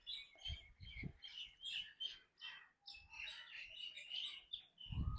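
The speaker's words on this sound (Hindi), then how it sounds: "और ये चिड़ियों ने पता नहीं क्यों लड़ाई मचाई हुई है यहाँ पे" Several birds squabble by a roadside, their busy overlapping chirps and tweets running continuously through the clip with occasional low thumps of handling or traffic underneath.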